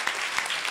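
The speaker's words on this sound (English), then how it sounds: "One more time, a round of applause for our debaters." Audience applause for high school debaters at a contest between Kumasi Wesley Girls and New Edubiase SHS, a brief, fairly faint burst of clapping with no voices.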